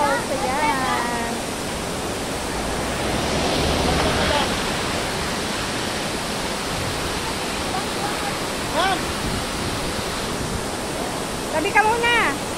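A waterfall roars as a broad, steady rush of water throughout, loud and continuous, with people talking and calling out over it.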